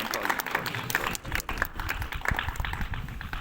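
Applause for children's performances at a school Republic Day programme, a busy patter of many hands clapping at moderate volume with voices mixed in.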